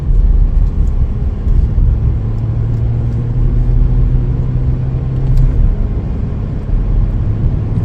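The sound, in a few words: 2021 Chevrolet Colorado pickup truck driving on test drive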